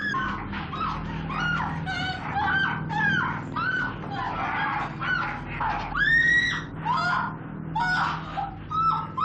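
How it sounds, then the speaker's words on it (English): A woman screams in a horror film, a series of shrill, wavering shrieks in bursts over a low rumbling background. "she lets out this ghastly, horrifying scream"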